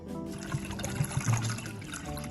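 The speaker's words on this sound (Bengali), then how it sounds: "এর মধ্যে দিয়ে দেব সেই পাল্পের কিছুটা অংশ আর এর মধ্যে দিয়ে দেব ঠান্ডা জল" Cold water is poured into a bowl of mango pulp for homemade mango juice, a soft trickling, splashing stream with a few brief louder gurgles, heard up close and alone.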